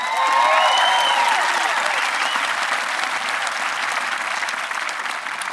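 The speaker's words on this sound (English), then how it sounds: "I'm really glad you clapped there" Sustained, loud audience applause at the Concord Carlisle High School graduation ceremony, a dense wash of clapping hands that starts at full strength and tapers only slightly over several seconds.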